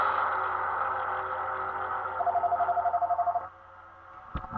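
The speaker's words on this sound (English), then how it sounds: "we'll be right back after I take the phone call" A telephone rings in quick, repeated trills that stop abruptly, followed by a short click as it is picked up.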